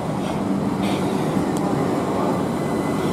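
A Southern Class 315 train arrives at Clapham Junction on a Croydon service, giving a steady, moderately loud rolling rumble from a fairly close track, alone without speech.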